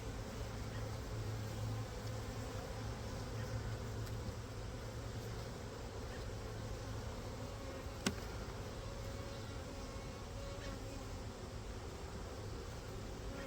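A dense, steady hum of many honey bees buzzing together in a hive, continuous and close, with a single faint click partway through.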